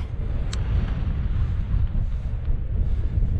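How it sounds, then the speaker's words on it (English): Strong wind blusters across a mountain summit in the Cairngorms, buffeting the microphone with a loud, deep, continuous roar that surges slightly, without any speech. "wind's picked up, as you can probably tell"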